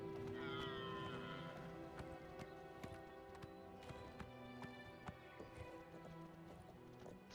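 Horse hooves clip-clopping at a steady walking rhythm while riding in the video game Oblivion, regular soft knocks over a humming ambient game soundtrack with sustained tones.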